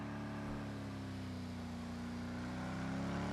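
A 6.2 litre V8 car in a virtual racing game at a Goodwood Festival of Speed event, its engine droning steadily with rising pitch as it accelerates, loud and continuous with no talk over it.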